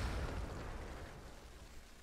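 A heavy derp cannon on a tank in World of Tanks on Xbox 360 lets off a single deep, booming blast that rolls and decays over two seconds, with no voices.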